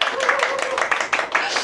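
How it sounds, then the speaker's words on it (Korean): A short burst of audience clapping at a Korean motivational talk, uneven hand claps crackling over a faint murmur of voices before quickly fading. "박수 한번 나와야 되지 않습니까?"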